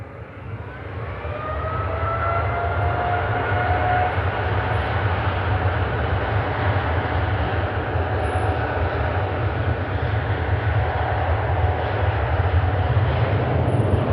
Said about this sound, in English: Gulf Air Dreamliner departing on 2-3 left